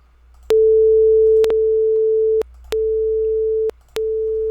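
A pure steady tone plays in several separate segments with clicks at each start and stop, the level dropping slightly between repeats.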